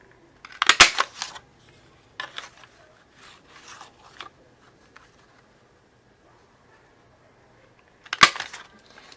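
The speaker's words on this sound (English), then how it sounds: "I'm going to punch it out with a scallop edge punch" A scallop edge paper punch works along a paper strip, giving sharp crunching clicks in scattered bursts near the start, softer rustles through the middle and one more loud punch near the end, with quiet gaps between.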